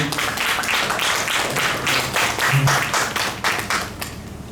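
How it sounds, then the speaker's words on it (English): Rhythmic clapping from a conference audience at a Ghana repatriation and investment gathering, with loud beats pulsing in an uneven pattern over a busy crowd background, fairly close and continuous. "let's give yourself a round of applause again"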